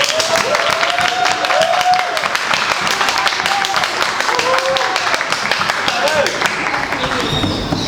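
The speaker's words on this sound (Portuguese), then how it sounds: "Uma salva de palmas, gente." An audience claps at a student debate, brief and light clapping mixed under loud voices talking and cheering over it.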